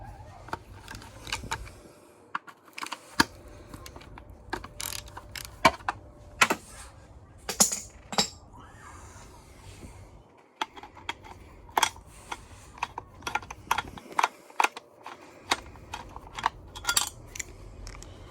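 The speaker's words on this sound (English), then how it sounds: "First up is to remove this bracket. 3 10mm bolts. Loosen them off first." Three 10mm bolts are loosened on a bracket at the EGR valve of a 2009 Jaguar X-Type 2.0D, heard as scattered close metallic clicks and ratchet ticks amid quiet pauses.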